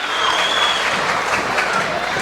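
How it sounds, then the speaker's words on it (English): A crowd at an independent wrestling show claps and cheers loudly, a dense continuous roar of applause with faint voices mixed in. "Crowd's fired up."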